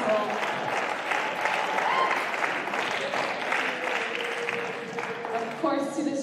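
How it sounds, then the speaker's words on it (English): Audience applause fills a squash stadium at a Dutch league event, a steady wash of clapping that carries on throughout, with voices faintly mixed in beneath it. "So big round of applause to everyone that's made this season possible."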